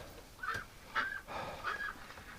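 Ducks at dusk in a winter straw-bedded pen, a few short nasal quacks in an uneven series, moderately close over faint background rustle.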